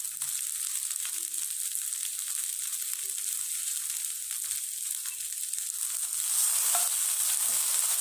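Okra fries in a pan with peanuts and lentils, giving a loud, steady, close sizzle with faint stirring scrapes throughout.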